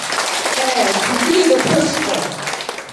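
An audience claps along at a Korean health seminar, a dense, steady patter of hands running beneath a presenter's continuous speech.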